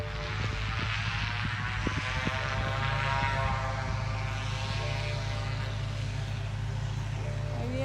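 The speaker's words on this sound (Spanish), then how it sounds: "Hay un avión ahí que ya se va." A propeller airplane leaving a forest airstrip in Canada drones steadily at a distance, a continuous low engine hum with a faint whine, and no talk over it.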